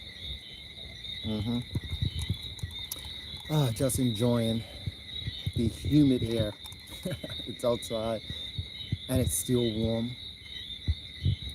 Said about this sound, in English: That sound is the symphony of whistling frogs.